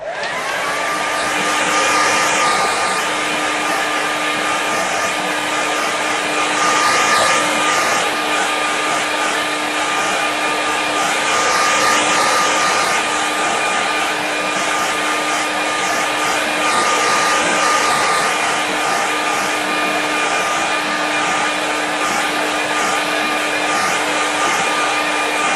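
A hair dryer blows continuously at close range to dry a watercolour landscape painting, a loud, steady whirring hum with a constant whine that holds for the whole stretch.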